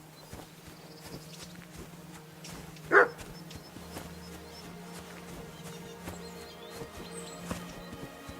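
A dog barks once, loud and sharp, in the medieval game Kingdom Come Deliverance 2, over a steady run of soft footsteps and low ambient game sound.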